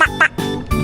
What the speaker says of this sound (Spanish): El patito hace cuac, cuac, cuac, cuac.